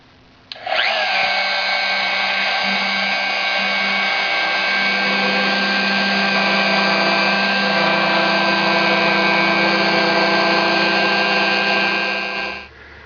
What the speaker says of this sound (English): we routed a groove about 1/8 inch deep with a V-bit